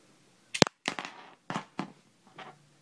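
A small plastic missile firing from the beak of a McDonald's Power Rangers Megaforce Happy Meal toy, a sharp close snap followed by several quick clacks and rattles as the projectile lands and bounces, with no talking.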